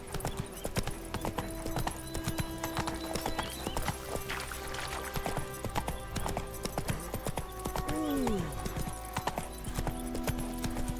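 A horse's hooves clip-clop steadily in The Witcher 3, the rhythmic hoofbeats running under game music, with a short whinny near the end.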